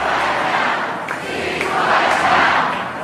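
A large crowd gathered outside Parliament House in Australia chants slogans in support of Palestine, a loud, continuous roar of many voices filling the whole stretch with swelling rises and no pauses.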